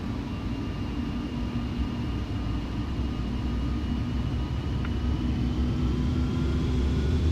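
A Boeing 737-800 in Flight Simulator X rolls down the runway for takeoff, its jet engines roaring in a steady, loud, constant drone with a faint high whine on top and no talking.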